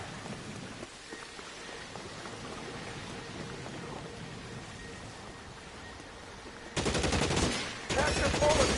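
Gunfire in L.A. Noire during a rainy shootout, steady rain hiss for several seconds, then two loud bursts of rapid shots close by near the end.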